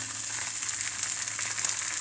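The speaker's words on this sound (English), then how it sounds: "pop them skin side down into a hot pan" Salted fish fillets frying skin side down in a hot pan, producing a steady, moderately loud sizzle and crackle with no voices.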